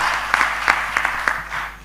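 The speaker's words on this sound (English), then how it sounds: "Let us give a clap to these wonderful panelists." Audience clapping for panelists at a faith-based marketplace conversation event, a brief burst of distinct hand claps from a small group that fades out toward the end.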